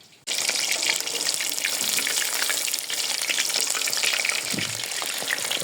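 Meat drumsticks frying in a kazan over an open fire, a loud, steady wash of hissing and crackling that runs unbroken throughout, close up with no voices.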